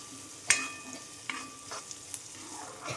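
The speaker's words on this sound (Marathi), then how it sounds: "शिमला मिरचीची भाजी चांगल्या पद्धतीने परतवून घ्यायची आहे" Onion and capsicum being sautéed and stirred in a pan for a capsicum bhaji, with a sharp scrape of the spatula, a couple of softer scrapes and light clinks over a low, steady sizzle.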